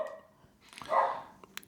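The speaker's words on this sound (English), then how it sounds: "That's the dog" A single dog gives a short, moderately close bark after a brief soft whimper-like sound, followed by a couple of faint clicks.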